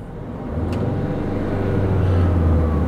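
Car engine revving up during an emissions check with a diagnostic scan tool, a steady low drone that swells from idle into a sustained, louder rising hum, close and without talk.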